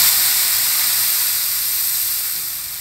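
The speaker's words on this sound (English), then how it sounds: "So that sizzling indicates that your tawa is ready to make the dosas." Water sprinkled on a hot oiled cast iron dosa tawa, a loud, close, continuous hiss of steam that fades slightly toward the end with no talk over it.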